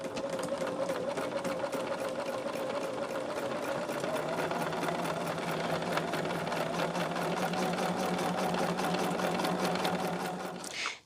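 A sewing machine stitches an eighth-inch reinforcing seam on a charm tote bag, one steady, loud, close run of rapid needle strokes that stops abruptly at the end.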